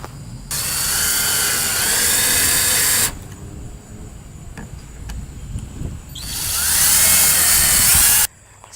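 A power driver sinks 1.5 inch screws into pine, two long steady whines from about 0.5 to 3 seconds and 6 to 8.3 seconds, loud and close, with quieter handling sounds between them and no talking.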